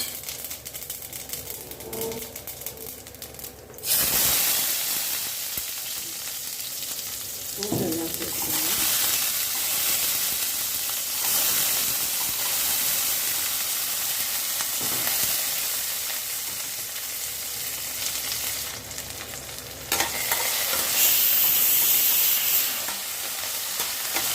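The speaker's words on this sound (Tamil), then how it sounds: "பூண்டு சேர்த்து நல்லா வதக்கணும் வதங்கட்டும்" Garlic sautés in hot oil with mustard seeds, fenugreek and cumin in a kadai, a loud continuous sizzle that begins abruptly with the garlic going in, broken up by the scrapes and clatter of stirring.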